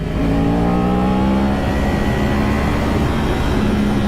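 A Kawasaki 10R superbike revs hard in first gear, a loud, sustained engine whine climbing in pitch, close to the listener and with no talking.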